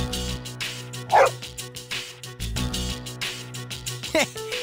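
A dog in Persona 3 FES barks and yips in short bursts, with a louder sharp bark near the middle and another near the end, set over a looping game music bed.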